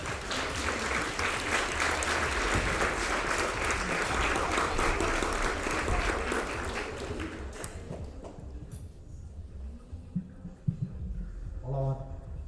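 A seated audience at an award ceremony claps loudly and steadily for several seconds, then the applause thins out and dies away, leaving scattered taps and small room noises.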